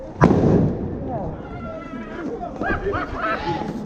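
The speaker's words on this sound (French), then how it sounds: "Lance de grenade." A grenade is launched during a Yellow Vests street protest in Toulouse: one sudden, sharp, loud bang at the start, followed by agitated voices over the noisy outdoor crowd.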